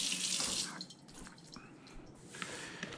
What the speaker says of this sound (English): I'm gonna wet my hands.